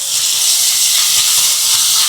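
Crushed spices tipped onto onions frying to golden in a pan give a loud, steady, bright sizzle and hiss that holds evenly close by, with no talking.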